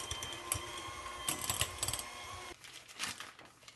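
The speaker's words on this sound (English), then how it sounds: "So I'm going to beat my cream cheese just a bit, just to make it easier to stir in my confectioner's sugar." Cream cheese being beaten for icing, a close, steady mechanical whir with rattling clicks that cuts to a quieter, looser churning partway through.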